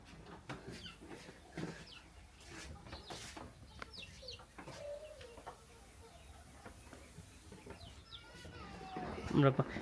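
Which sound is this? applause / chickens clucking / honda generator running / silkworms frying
chickens clucking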